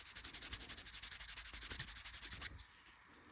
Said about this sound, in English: Get it wet. Hit it with canvas.